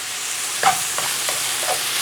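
Mushrooms stir-fried in a hot wok while cooking prawn egg foo yung, giving a steady close sizzle with a few soft scraping stirs of the utensil against the pan.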